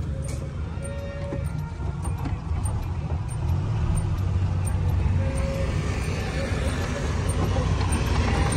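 Trucks roll by on a road, a steady loud traffic rumble with brief higher tones and small clicks over the top, passing close and continuous.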